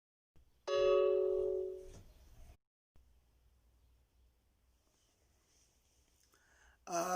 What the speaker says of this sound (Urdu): معذرت یار بیچ میں گھنٹی بج گئی